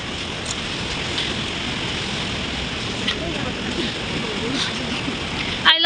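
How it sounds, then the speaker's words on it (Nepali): Steady rain falling in Lachung, a continuous broadband hiss with faint spatter throughout and a brief louder bump at the very end. "यहाँ चाहिँ लाचुङमा चाहिँ अहिले पानी पर्न थाल्यो।"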